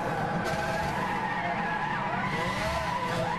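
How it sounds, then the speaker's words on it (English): Tires skid and squeal steadily as a car drifts in Gran Turismo 6, with engine drone beneath a continuous loud screech that runs unbroken throughout. "It might have been my first proper drift"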